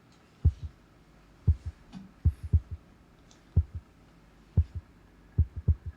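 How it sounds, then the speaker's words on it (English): A heartbeat effect opens Queen's instrumental Procession: deep, thudding double beats repeat at a slow, even pace, loud and close, with a faint hum beneath. "Heartbeat."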